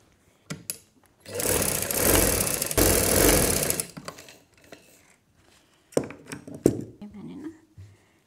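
Sewing machine stitching gathers on a baby girl's frock, a steady close mechanical whirr in two bursts of a couple of seconds each, followed by shorter rattling runs and handling noise.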